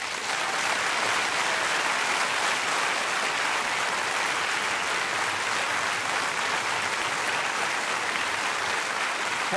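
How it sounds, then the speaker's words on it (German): Studio audience applause for a performer on a folk music television show, a continuous even wash of many hands clapping at steady volume with no talk over it. "Zuerst aber jetzt einen riesigen Applaus"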